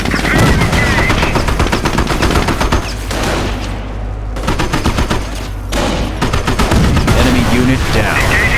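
Continuous loud machine-gun bursts and rifle fire from a Company of Heroes battle on expert difficulty, a dense fusillade with a short lull midway before the shooting picks back up, with battlefield chatter mixed in.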